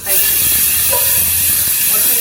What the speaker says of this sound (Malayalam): 2 വിസിലാണ്, ഒരു വിസിൽ എക്സ്ട്രാ ആണ്